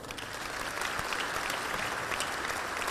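Audience applause in a large civic center hall during a legislative delegation event, steady dense clapping from a crowd, moderately distant and continuous throughout with no speech.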